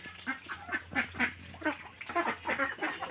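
A flock of ducks quacks and honks continuously in close, uneven bursts while being fed rice in a village yard, with no speech.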